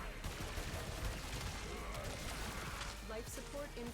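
Braton Prime Incarnon rifle firing in Warframe, a dense continuous barrage of rapid shots with mechanical clatter, loud and steady throughout with game effects layered in.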